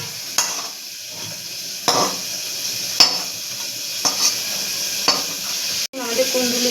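Kundli fries in fish oil over medium heat while a utensil stirs it in a pan, giving periodic scraping strokes about once a second over a soft steady sizzle, close by.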